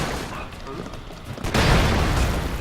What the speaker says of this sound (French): Il donne des explosions.